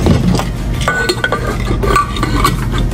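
A small Hawkins 1.5 litre pressure cooker has its metal lid fitted on, giving steady close clinks, scrapes and metallic knocks throughout with no talking.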